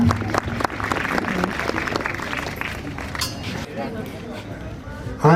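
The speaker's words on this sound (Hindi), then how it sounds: "तालियों के साथ स्वागत करें इनका" Audience applause welcoming guests at a Republic Day ceremony at a school institute in Nagaur, India, with steady clapping mixed with voices and crowd noise.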